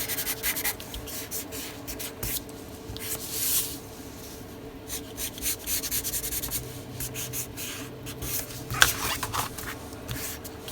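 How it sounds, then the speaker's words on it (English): Charcoal being smudged and rubbed across an art journal page, heard close up as continuous soft scratchy friction in uneven strokes, with brief brushing bursts and a faint tap. "we can smudge and rub this charcoal out"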